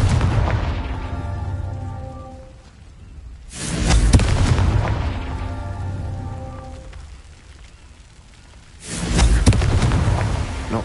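Two heavy booming blasts from the Confringo blasting curse in a Harry Potter video game, each a sudden loud burst that decays into a rumbling, crackling tail over several seconds, with no voices.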